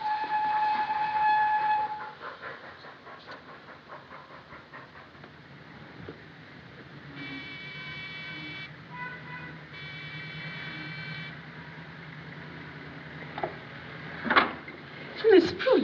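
A train at a railway station, rumbling steadily with a sustained horn or whistle tone through the middle and a few sharp clanks toward the end.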